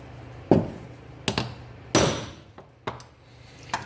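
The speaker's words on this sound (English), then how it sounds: "hammer it through the aluminum" Several sharp metallic hammer strikes drive an S90V steel knife through aluminum, uneven in timing, ringing briefly against metal at close range with no talking.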